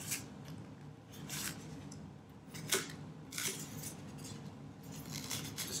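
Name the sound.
exacto blade cutting foam for a sculpture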